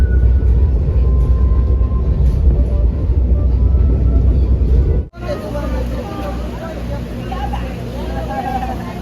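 Train ride in Peru: a steady, loud rumble of the rail car runs through the clip, then drops abruptly to a quieter cabin with murmuring voices of people talking in the background.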